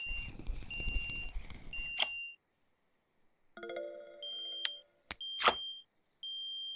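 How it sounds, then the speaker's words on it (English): Electronic beeps and tones from the video game Russian Fishing 4, a few sustained high pitched beeps with sharp blips between them, separated by short silences, with some low rumble at the start. "the beeping is much louder in my ears, hopefully than yours"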